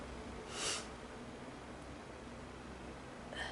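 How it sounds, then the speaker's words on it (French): A woman with a cold gives a short sharp sniffle, then a fainter second sniff near the end, over quiet room hiss with no talking. "excusez-moi si je renifle un petit peu"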